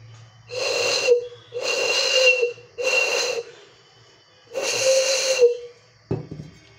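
Breath blown across the mouths of bottles holding different amounts of water makes four breathy, hollow whistling tones of about a second each, some higher and some lower in pitch, ending with a short knock.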